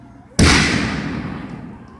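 A Black Widow aerial firework shell bursts with one sudden loud boom, followed by a long crackling, rumbling decay. It comes from a 24-shell pack fired outdoors.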